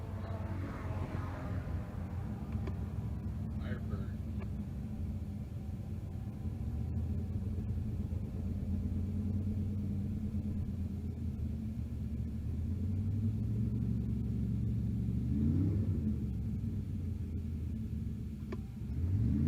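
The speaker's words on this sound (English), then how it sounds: "Kevin Bay is getting ready to do their burnouts." Drag race cars idling with a deep, steady rumble before their burnouts at a large drag-and-drive event, a continuous engine drone heard from a distance with a brief rise near the end.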